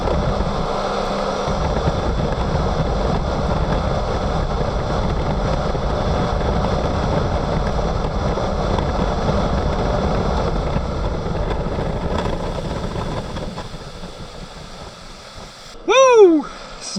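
A 2026 Sea-Doo jet ski at wide open throttle crossing a lake, a steady loud engine drone with wind rush that holds for a long stretch and then eases off near the end.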